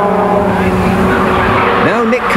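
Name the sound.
Rover GTi race cars racing and sliding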